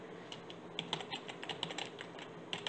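Fingers type steadily on an external keyboard plugged into an Android phone, producing quick, irregular key clicks at close range with no talking.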